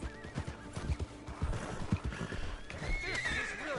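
A horse in the Red Dead Online video game whinnies and snorts while its hooves clop, the neigh rising clearly over a busy mix of game sounds with no talk over it.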